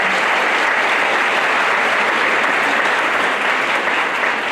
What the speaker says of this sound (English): A nice round of applause for Ms. Mason.